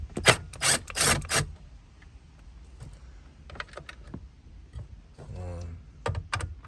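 Screws being backed out of a car AC panel, a series of quick close ratcheting clicks in bursts with softer rubbing and handling noises between them.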